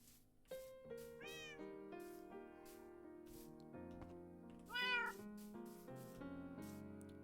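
Cats meowing in the Minecraft game, sitting around a small lake in the End, with repeated clear meows, one rising caterwaul, layered over a steady synthetic music bed with no talk.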